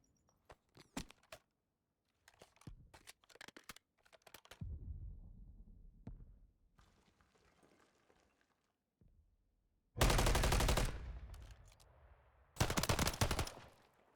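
Gunfire in a competitive shooter match, including shots from a Renetti, follows scattered faint clicks and a low rumble; two short, loud bursts of rapid shots hit near the end.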